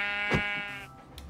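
Sheep bleating in the video game Minecraft, a single wavering, nasal bleat up close, with a second short call fading toward the end.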